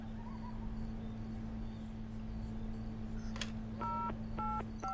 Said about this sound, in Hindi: सीधा पुलिस को फोन कर ही देते हैं।